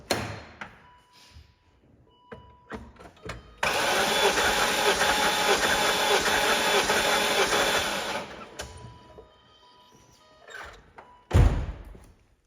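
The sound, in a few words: BMW E39 M5 engine cranking during cylinder compression test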